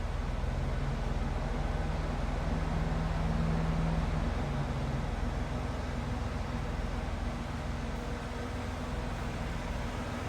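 A 1991 Oldsmobile 98 Regency Elite engine runs quietly, heard from the back seat as a steady, low, faint hum that holds evenly throughout with no voices.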